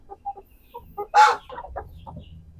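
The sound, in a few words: Sussex rooster clucking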